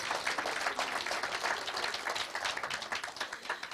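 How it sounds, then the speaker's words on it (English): An audience at an investment forum in Sandton gives a brisk round of applause, with dense overlapping claps holding at an even level throughout. "Can we give them a round of applause?"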